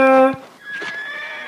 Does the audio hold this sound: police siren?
no